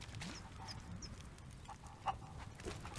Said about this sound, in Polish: Tutaj te kury mi tu chodzą.